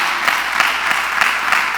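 A church audience applauds at a sermon, giving a short burst of fairly loud, evenly paced clapping.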